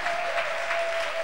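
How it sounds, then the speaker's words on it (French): A church congregation applauds God during a faith seminar service, a dense, steady wash of many hands clapping at once, fairly loud and continuous throughout the short stretch, with a faint sustained tone running underneath. "Donnez une bonne main d'acclamation à Dieu."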